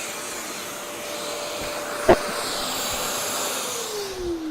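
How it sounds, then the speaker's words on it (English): A dust extractor runs in a woodworking shop during a garden bench repair, a steady loud whooshing roar held throughout, with a single sharp knock partway and no talk. "I didn't turn the dust extractor on. I'll turn it on now."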